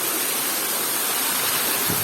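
Waterfall pouring into a forest pool, a continuous, close, full-bodied rush of falling water with no breaks and no voices.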